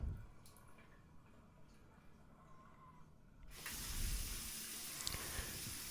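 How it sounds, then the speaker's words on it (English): Water gurgles and rushes down a bathroom sink drain after the stopper is lifted, a soft steady hiss that swells louder partway through, close and with no talk. "drain the sink by lifting the stopper and then wringing the rag to dispel all water that was inside of the rag"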